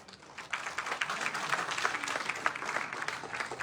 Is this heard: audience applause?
yes